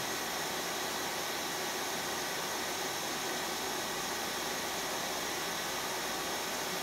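A Miele hybrid vacuum cleaner runs on battery power with a steady, loud, unbroken hiss and whine that holds constant throughout, with no voices.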